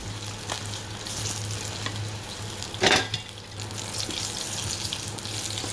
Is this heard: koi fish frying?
yes